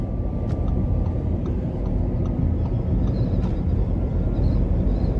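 Audi e-tron Quattro Prestige 2019 electric car accelerating under light throttle, a steady low rumble of road and motor noise from inside the cabin with a faint electric whine, continuous and moderately loud.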